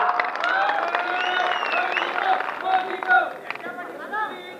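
Applause and clapping from a large crowd at a Shiv Sena political rally in Amravati, a dense sustained patter with some scattered shouts and chatter mixed through it.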